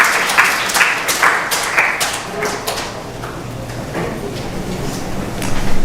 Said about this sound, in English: Please give him a big round of applause in his absence.